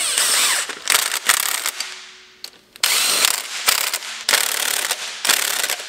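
A ratchet fitted with a 15mm socket turns engine bolts during a Porsche 944 five-cylinder 07K engine swap, sounding loud, close, rhythmic clicking bursts broken by brief gaps.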